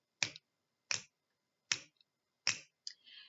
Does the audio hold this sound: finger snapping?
yes